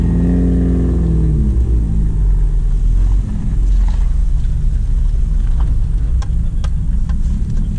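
A 1996 VW Quantum GLSi pulls away from a standstill, its engine droning low and steady from inside the cabin, with faint clicks and ticks near the end and no one talking.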